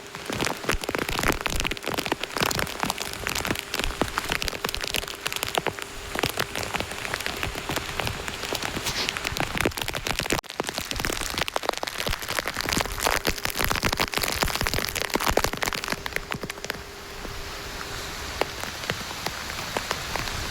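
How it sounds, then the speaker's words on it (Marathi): Heavy rain pouring down steadily on trees and coconut palms, a dense, loud hiss of drops on surfaces with no break. "किती मोठ्यान पाऊस येतो बघा"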